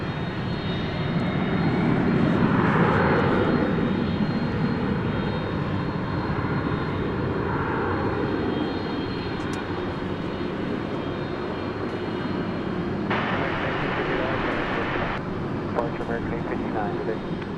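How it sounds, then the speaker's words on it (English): An MD-11 jet airliner departing a runway at DFW after dark, a steady broadband engine roar holding loud throughout from a distance, with people talking over it. "we are about to bring you the departure of this other MD-11"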